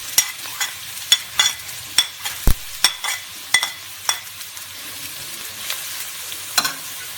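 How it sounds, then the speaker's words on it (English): Chopped onions fry in oil over a low flame, giving a steady close sizzle broken by frequent sharp taps and scrapes of a stirring spoon against the pan. "At low flame, then adding chopped onions and wait for them to get a golden brown color."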